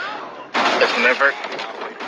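Gunfire in Rainbow Six Siege, a burst of loud close shots starting suddenly partway through and mixed with other game noise and voices talking.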